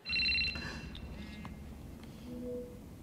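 A phone rings in a scene from The Batman (2022), with a brief, high electronic ring at the start over a low, rumbling film score. Fainter tones follow later.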